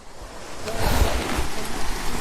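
The main waterfall at Wah Rashi Falls in Meghalaya gives a steady, close rush of falling water, a broad continuous hiss and roar with no voices over it.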